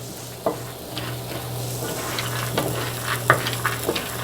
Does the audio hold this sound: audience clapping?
no